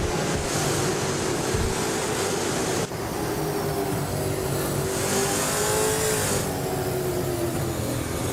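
Race cars, among them a 2008 Ford Falcon FG, roar around a track in a racing video game, a continuous loud engine drone with rising and falling revs as cars pass and accelerate.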